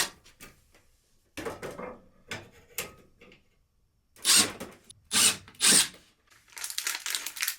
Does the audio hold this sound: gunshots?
no